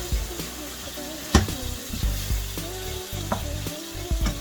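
Sloppy joe meat seasoned with cumin powder sizzles steadily in a pan while being stirred, with occasional louder scrapes and clinks of the utensil against the pan over continuous frying hiss.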